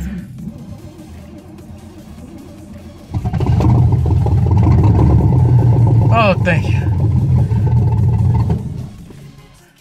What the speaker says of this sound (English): I put fuel inside of the carburetor and got the engine to start